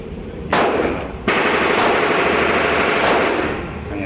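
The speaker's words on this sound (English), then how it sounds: "I'm going to test out the new Mechtech unit, Glock 19" Rapid loud gunfire from a Mechtech CCU carbine conversion built on a Glock 19 at a shooting range, dense bursts of shots sustained across the whole stretch with no talking.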